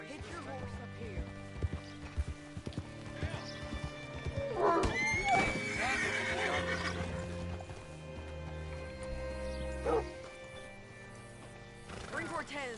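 A horse in the video game Red Dead Redemption 2 gives a loud whinny mid-clip, with clip-clopping hooves, other game sounds and voices talking around it.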